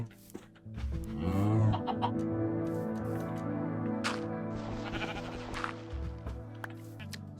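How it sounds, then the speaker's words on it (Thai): Blocky Minecraft farm animals bleat, mostly sheep with chickens, several overlapping calls and clucks amid game sounds, continuous and moderately loud. "ตอนนี้แกะของเราไอ้แบ็คยังไม่มีคู่เพราะฉะนั้นเราก็ต้องลาก คู่มาหาเพื่อให้มันได้มีความรักกันหน่อย"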